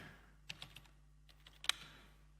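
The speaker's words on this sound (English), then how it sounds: "That's the maximum I can do typing." Keystrokes on a computer keyboard during a live demo, a sparse, irregular run of quiet clicks with one sharper tap near the end, heard alone against a low steady hum.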